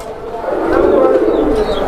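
A male Bombay pigeon coos in a deep, throaty rolling burst that swells and fades, heard close at a pigeon seller's, with a faint voice nearby.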